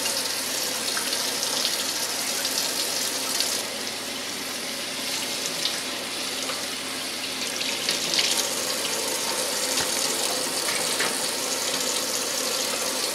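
Salted chicken is rinsed under a running kitchen tap, the water gushing steadily and splashing for the full stretch, close and fairly loud with no talk.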